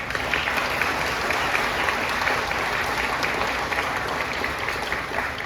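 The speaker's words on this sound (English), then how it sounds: "So nice round of applause to them." Concert audience at a symphonic winds performance giving a round of applause: sustained, dense clapping from a large crowd, loud and even throughout with no speech over it.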